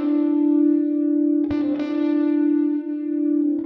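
Sustained synthetic tone from an MMixingFXBundle plugin with a sine wave note a second higher added, a steady bright buzzy pitch with a sharp click partway through and small wavering, alone and loud.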